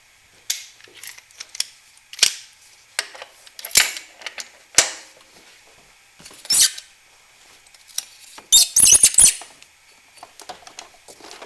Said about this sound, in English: this belt's kind of in the way, so I'm just going to quick pop that off too